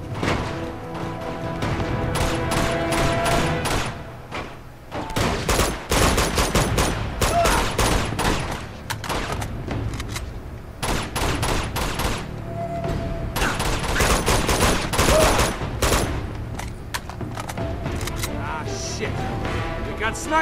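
Loud, repeated gunfire in Uncharted 2: Among Thieves at the monastery, shotgun blasts from an enemy mixed with other weapons, dense and sustained with sharp cracks throughout, while voices talk over the combat.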